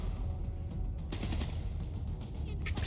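Rapid gunfire from a Call of Duty match crackles steadily throughout, dense bursts layered over continuous game noise with no clear gaps between shots.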